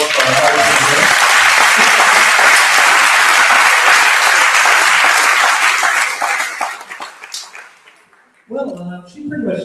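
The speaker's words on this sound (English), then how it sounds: "Let's give a big round of applause for our artists here." Loud, sustained audience applause fills a talk and Q&A hall for several seconds, then thins out and fades, with a voice speaking briefly at the end.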